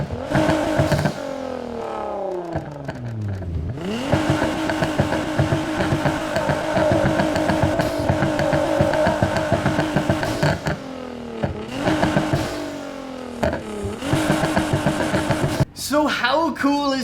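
A widebody Nissan GTR in Need for Speed Heat revs hard through its customized exhaust, with repeated rising and falling sweeps, sharp pops and a steady loud drone across the whole stretch; no voices over it.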